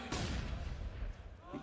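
Gunfire sprays in Counter-Strike on Dust 2 during a professional match, a dense burst of rapid shots under loud, busy game audio that trails off toward the end.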